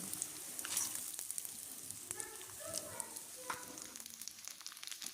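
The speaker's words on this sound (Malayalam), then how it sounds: "ഇത് ഫുള്ളും ഞാൻ ഇട്ട് കൊടുത്തിട്ടാണ് വറുക്കുന്നത്." Soft, steady crackling and sizzling of unniyappam batter frying in hot ghee, faint and continuous with small pops scattered throughout.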